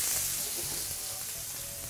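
Food frying in hot oil in a pan, with a steady, close sizzle and crackle that holds level throughout, and no talking.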